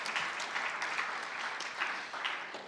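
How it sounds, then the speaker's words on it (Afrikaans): A lecture audience at the Johan Combrink memorial lecture gives sustained applause, a dense wash of many hands clapping at moderate loudness, steady from start to finish with no talk. "gee vir julle self ook sommer 'n lekker hande klap"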